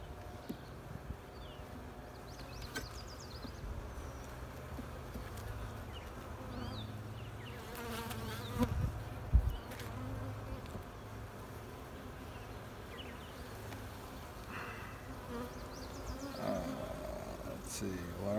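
Honeybees buzzing around an open hive, a soft continuous hum with occasional louder passes close by, faint overall with some handling noise.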